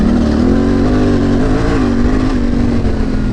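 A Yamaha Tenere 700 motorcycle engine drones loud and close under steady throttle while pushing through mud, a continuous rough roar with slight pitch wavering.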